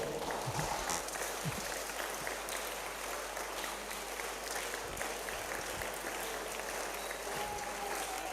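Audience applause at a youth camp health talk, a steady wash of clapping throughout with a continuous low hum underneath and no distinct voices.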